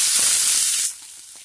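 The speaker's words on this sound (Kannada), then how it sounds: "ನೋಡಿ, ಇದೇ ತುಪ್ಪಕ್ಕೆ ಈಗ ಗಾಜರ್ ಹಾಕ್ತಾ ಇದ್ದೀನಿ." Grated carrot going into hot ghee gives a loud, bright hiss that holds steady for under a second, then drops to a softer, quieter sizzle.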